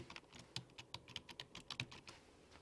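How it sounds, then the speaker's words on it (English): Fingers typing a password on a computer keyboard, a quick irregular run of close, light key clicks with short pauses, with no talking. "okay, I'm not typing my password correctly"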